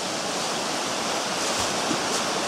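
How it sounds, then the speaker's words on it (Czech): Steady, loud rush of a waterfall along a wet hiking route with stream fords, a continuous broadband roar with no pauses or voices. "Tady by snad měl být vodopád."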